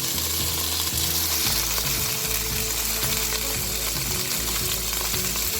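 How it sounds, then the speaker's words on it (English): Marinated teriyaki salmon sears in a hot pan, giving a loud, steady frying sizzle that fills the whole stretch with no voices over it. "So I'm going to sear the salmon that we have marinated."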